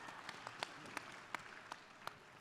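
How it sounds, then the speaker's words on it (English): An audience at a conference applauds in appreciation of a school, faint scattered hand claps at an uneven rhythm with a few sharper individual claps standing out over a soft background wash. "I think a round of applause, of appreciation for the school"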